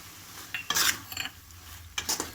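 A spoon stirs grated coconut into banana stem dal kootu in a cooking pot. Three short bursts of soft scraping and light metallic clinks come close up between quiet gaps, with no talking.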